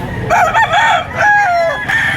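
Rooster crowing loudly and close at a rooster market in Lipa, Batangas, two short rising calls, with no talk.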